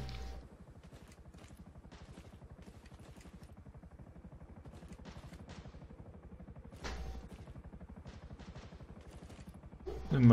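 Gunfire in the PC battle royale game Knives Out sounds as faint, scattered shots and thumps over a steady low mechanical hum, with a louder burst near the end.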